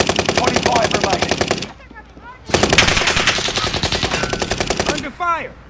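Rapid automatic gunfire in Call of Duty Warzone on Rebirth Island rattles in two long loud bursts, separated by a brief pause with a few softer reports.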